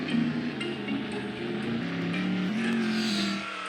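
Car engine in a mobile phone video game, a droning revving motor whose pitch shifts up and down as the virtual car speeds and slows, steady and continuous with no talk.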